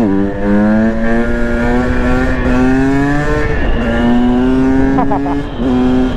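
A 2020 KTM 300 EXC TPI two-stroke set up as a supermoto accelerates hard through the gears, its engine a loud, close, continuous rising whine with brief dips at each shift.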